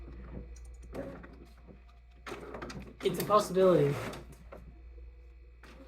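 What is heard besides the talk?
printer running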